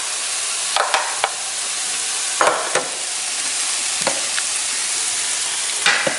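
Green onions and red onion sizzle in a hot pan for cashew chicken, a steady loud frying hiss with several sharp scrapes and clatters of the spatula as they are stir-fried, close by with no talking.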